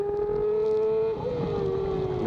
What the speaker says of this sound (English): My auto blipper wasn't working, so that's why you hear the weird clutch stuff going on.